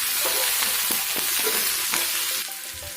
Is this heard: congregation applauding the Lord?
no